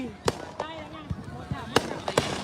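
Fireworks bursting at a New Year countdown in America, a handful of sharp bangs and crackles spaced irregularly, some close and loud, others fainter, with cheering and talk in between.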